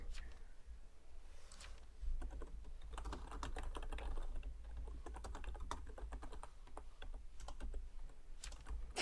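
Fast, steady clicking of a computer keyboard as someone types continuously, close and distinct over a low background hum, with faint voices underneath.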